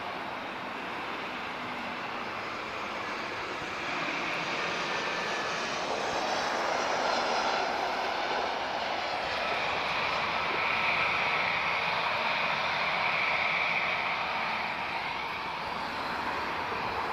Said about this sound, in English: we've got an A321 from Lufthansa